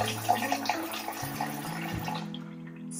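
Running water pours steadily into a pot of rinsed rice for a curry meal, a continuous splashing rush that tapers off and stops near the end.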